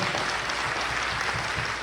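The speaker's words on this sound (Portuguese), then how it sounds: "Quem crê nisso, aplauda Jesus bem forte, querido" A church congregation applauds loudly and continuously, a thick unbroken roar of clapping filling the hall with no pauses.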